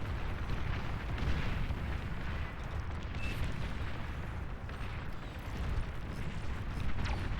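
D-gun weapons fire and explode in the strategy game Beyond All Reason, a continuous rumbling barrage of booms and blasts at moderate level with no break.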